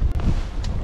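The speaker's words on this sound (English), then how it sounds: "See, there was a little bit of wind." Steady wind buffets an open fishing boat on the water during spring walleye fishing, a continuous low rumble of gusts close on the microphone with no voices.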